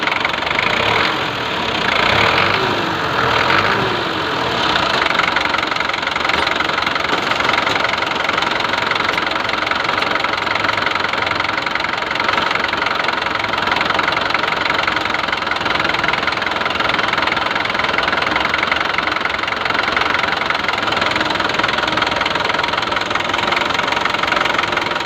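A Mitsubishi 4B1 engine idling after an idle adjustment, with a continuous, even mechanical clatter and hum that stays steady and loud the whole time, no voices over it.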